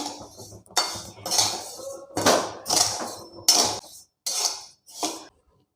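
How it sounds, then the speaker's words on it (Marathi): Raw rice dry-roasting in a pan to make chakli flour, heard as a series of brisk scraping and rattling bursts from stirring, each about half a second long and separated by short pauses. "ते तांदूळ आपण भाजून घेऊया"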